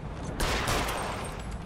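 Gunfire in the L.A. Noire video game: a dense burst of rapid shots begins suddenly and holds loud and close, with a brief bit of speech in the background.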